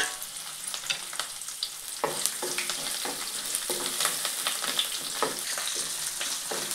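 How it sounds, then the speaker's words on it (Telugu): Onions, green chilies and curry leaves fry in hot oil, giving a close, continuous sizzle broken by crackling pops and the scrape of stirring. No voice is heard. "ఉల్లిపాయలు ఫ్రై అయిపోయాయి"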